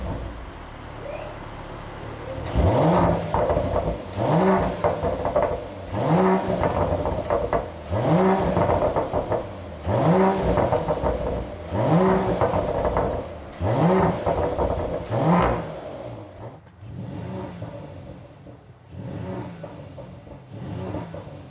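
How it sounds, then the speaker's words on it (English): A Mercedes-AMG GLE 53 in the UK started in its louder exhaust mode, then revved repeatedly: a series of about eight rising throttle blips with a rumbling exhaust note between them, close and loud, easing off at the end. "I want to show you what the GLE 53 sounds like in the UK"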